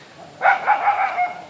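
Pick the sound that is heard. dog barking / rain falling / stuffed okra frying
dog barking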